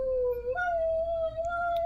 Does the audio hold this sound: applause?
no